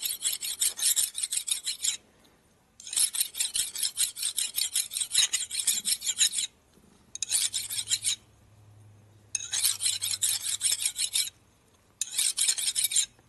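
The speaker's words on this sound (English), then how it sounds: "I keep relatively dull files around. Yeah, just for this. You take burrs off and don't hurt the parent material underneath." A dull file rasps burrs off a Harley-Davidson Ironhead kicker ratchet plate in repeated bursts of quick, bright scraping strokes, close and loud, separated by short pauses.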